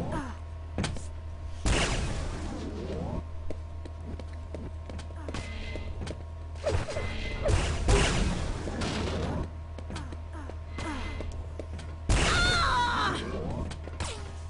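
Machine gun fire in a Quake Live team deathmatch, sounding as bursts of rapid gunfire mixed with other game effects and steady background hum, with a few louder surges of shooting.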